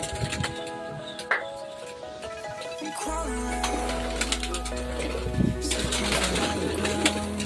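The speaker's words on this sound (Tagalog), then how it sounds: "Ayan sila mga kalapatids. Lumilipad na nga sila lahat." Racing pigeons released at a sprint race, their cooing and wingbeats continuous and close, with a low steady hum underneath and brief background voices.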